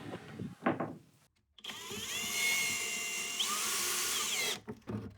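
A power screwdriver drives screws to join lightweight van rack modules, whining steadily at close range for about three seconds after a few knocks and handling clatters, then cutting off into more brief handling noise.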